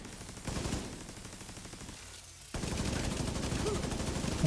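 A video game turret fires steady rapid gunfire, an unbroken rattling stream that cuts off briefly partway through and then resumes just as dense. A voice talks faintly beneath it.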